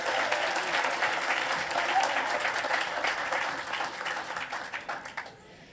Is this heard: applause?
yes